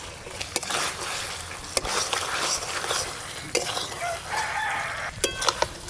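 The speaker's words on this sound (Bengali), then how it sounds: "সব কিছু একসঙ্গে খুব ভালো করে এবার মিশিয়ে নেব।" Fried momos being stirred into Schezwan sauce in a pan, with steady scraping and stirring scrapes and a few sharp utensil clinks against the pan, continuous and close throughout.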